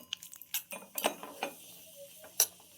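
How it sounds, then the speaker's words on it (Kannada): Cashews sizzling and being stirred in melted ghee in a pan, with scattered metal clinks of a spoon against the pan and a few louder scrapes, fairly quiet and close. "ಗೋಡಂಬಿ ಹಾಕೊಂಡು ಇದಕ್ಕೆ ಕೆಂಪಗೆ ಬರೋ ತನಕ ಹುರ್ಕೊಳ್ಳೋಣ."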